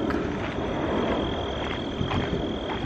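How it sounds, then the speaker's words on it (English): A frog croaks in a weedy park amid a steady outdoor wash of insects and faint wind, the croaks soft and somewhat distant, no talk. "I wanted to see the frog."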